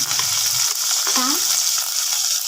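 Cumin seeds, curry leaves and green chili sizzle in hot oil in a pan, a steady close hiss with a brief stir partway through.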